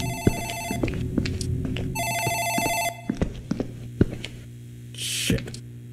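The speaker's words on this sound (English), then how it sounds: "phone in the office ringing." An office telephone in Dark Fracture rings in two bursts of electronic trilling, each about a second long, amid a low hum and scattered knocks and clicks, followed by a short hiss.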